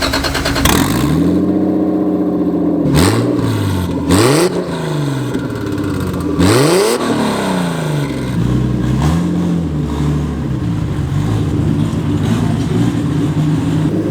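A 2JZ-swapped wide-body BMW E30 revs hard and close, with several sharp throttle blips rising and falling before settling into a rough, loud idle.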